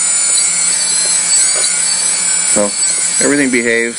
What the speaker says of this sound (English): Now we just arm the motors. So the motors are spinning now.